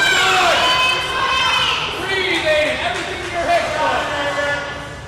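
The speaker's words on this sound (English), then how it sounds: "A lot of support coming out of the crowd right now for Aiden." Crowd at a youth ninja course competition cheering on a young competitor, with shouts and high-pitched children's voices rising and falling over a steady hubbub of chatter.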